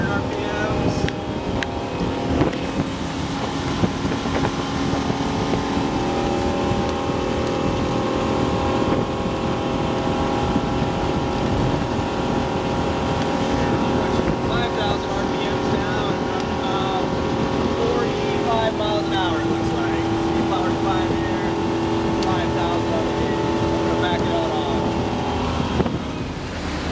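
Sea Ray motorboat engine running at full throttle, about 4,500 RPM with trim at halfway, a steady loud drone mixed with wind and water rush throughout, with someone talking over it.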